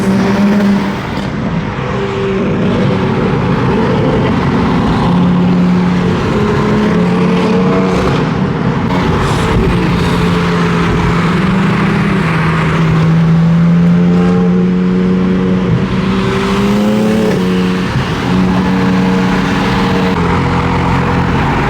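Ram TRX pickup truck leading a group of cars on the road, its engine droning loud and close with rising and falling revs and gear changes throughout, no talking.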